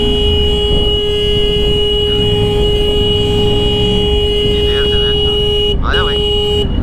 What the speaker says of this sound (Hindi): मैं हॉर्न मार मार के मैंने रोक रखा।